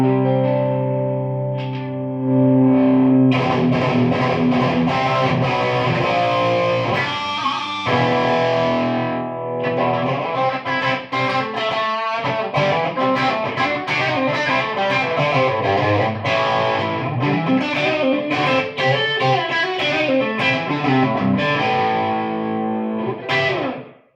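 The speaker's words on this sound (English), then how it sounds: "I believe there's nothing compared to a Valve amp cranked up." A loud, distorted electric guitar played through a cranked-up valve amp with no pedals plays sustained chords and riffs with a thick, saturated overdrive tone and some echo, ringing out alone.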